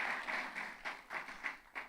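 A church congregation applauds, a steady wash of many hands clapping at a moderate distance, rising and falling in soft waves.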